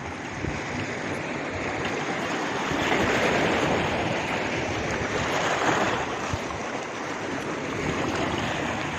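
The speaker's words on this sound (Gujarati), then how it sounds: "આવે આવે મોજો આવે." Sea waves break on the shore at Diu near Gangeshwar Mahadev, a steady, loud surf roar that swells in the middle as a bigger wave rolls in, with some wind buffeting the microphone.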